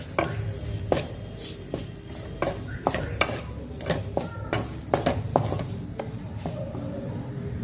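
Sugar being stirred into semolina and carrot kesari in a pan over a low flame, with close, irregular scraping and tapping strokes of a spoon against the pan.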